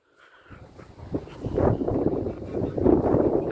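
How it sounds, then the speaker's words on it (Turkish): Wind gusts buffet the microphone in a steady low roar that builds after a quiet start and stays strong to the end. "Yine rüzgar çıktı mübarek hava."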